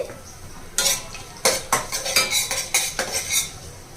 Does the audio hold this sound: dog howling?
no